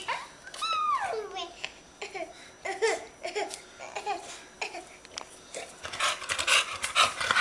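A dog pants in quick, breathy bursts, loudest near the end, mixed with a small child's high babbling and laughter and other voices nearby.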